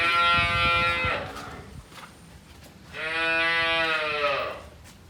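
A milking buffalo lets out two long, loud bellowing moos close by, separated by a short pause.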